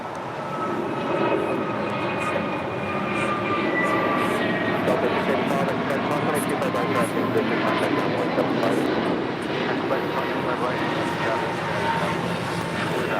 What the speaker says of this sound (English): American Airlines 2532 taking off to Washington National on an A321neo